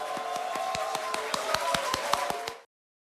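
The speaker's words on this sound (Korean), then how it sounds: "다시 한번 우리 대표님 환영하는 함성 박수 보내주세요" A crowd welcomes a party leader with rhythmic unison clapping, a steady beat of sharp claps over a sustained roar of voices that cuts off abruptly near the end.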